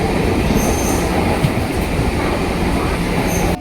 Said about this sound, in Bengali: বনগাঁ টু রানাঘাট ট্রেনটি আবার শান্তিপুর লোকাল করে দিয়েছে, আমাদের নামতলা না, একই ট্রেনে চলে যাচ্ছি আমরা।